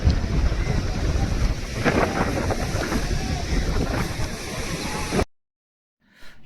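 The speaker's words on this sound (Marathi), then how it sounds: "आज लाटा थोडं जास्त आहे" Sea waves wash in near fishing boats at a shore after a catch, a loud, steady rush of surf blown over by strong wind, cutting off abruptly near the end with a faint sound after the silence.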